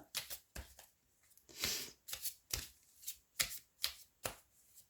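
Oracle cards are shuffled for a tarot-style reading, giving about a dozen crisp riffling bursts in an uneven rhythm, close and fairly quiet, with soft pauses between them and no talking.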